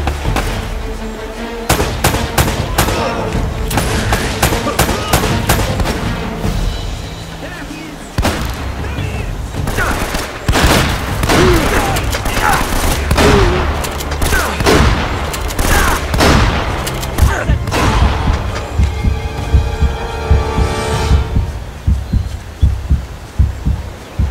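Gunfire in the video game Uncharted: Drake's Fortune, with loud, rapid volleys of shots and booming impacts that come in dense clusters across the whole stretch, mixed with in-game ambience.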